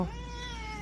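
A person imitates a cat's meow with a single short, nasal vocal cry that rises and then trails off, close and clear, alone.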